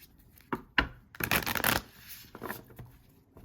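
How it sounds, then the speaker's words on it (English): Tarot cards being shuffled by hand during a reading, with a few soft riffling bursts and a longer rustling flurry in the middle, close and fairly quiet, no talk. "These cards need to be shuffled again."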